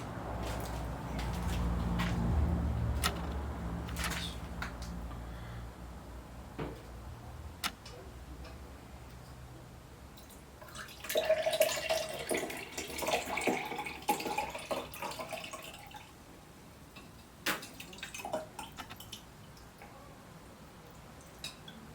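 Raspberry cider pours from a keg, a steady liquid trickle and splash that swells in the middle and mixes with small clicks and knocks of handling.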